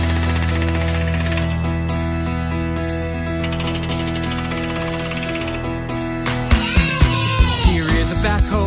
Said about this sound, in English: An impact hammer smashing hard into the ground.